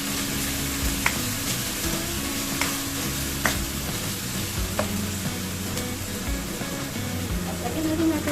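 Sardines sizzle and fry in a pan for a dish with miswa noodles and vegetables. The frying hiss is steady throughout, broken by occasional sharp clinks of a stirring utensil against the pan.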